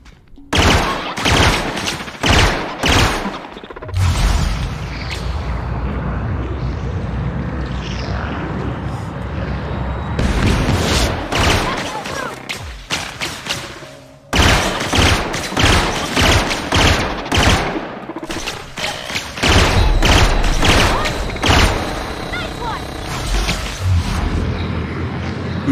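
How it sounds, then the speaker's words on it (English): Gunfire in The Outer Worlds on Nintendo Switch, loud bursts of rapid shots in clusters separated by short pauses, close and sharp throughout. "Who's shooting at me?"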